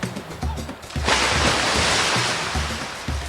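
Rushing water of an emerald green river at Kebang village along the Siang, a loud steady broadband wash that swells up after a second and carries on alone.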